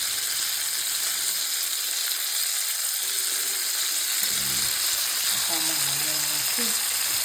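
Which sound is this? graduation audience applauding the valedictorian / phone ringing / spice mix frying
spice mix frying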